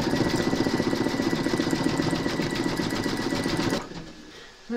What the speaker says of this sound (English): Load your thread colour for the satin stitch around the hat brim into your machine and then stitch round number 12.